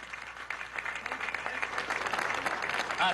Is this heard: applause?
yes